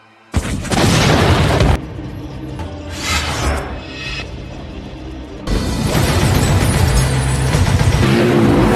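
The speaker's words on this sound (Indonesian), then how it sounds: "Fortingate tidak bisa meloloskan diri, dan akhirnya Fortingate pun tewas meledak" A loud explosive car blast in a film erupts, then a heavy roaring rumble with crashing debris continues before a second surge of roaring noise, all dense and close.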